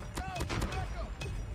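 Automated sentry gun opening fire in Call of Duty Mobile, a quick series of sharp gunshot bursts in the game mix, with a voice talking over the shots.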